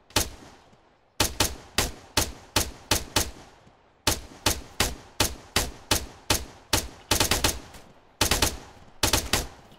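40 mm cannon fire in the military game Arma 3: loud, evenly spaced heavy booms in three long volleys of about eight shots each, with short pauses between volleys and no talk.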